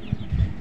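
A rooster on a cattle farm gives a few short, low clucks close by, brief throaty sounds over faint background noise.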